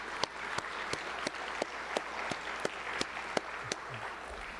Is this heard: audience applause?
yes